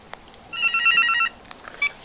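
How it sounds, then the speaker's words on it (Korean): A telephone rings in a small bistro, one sustained burst of bright electronic trilling at moderate volume, with quiet clicks and faint room noise before and after it. "또 전화가 오네"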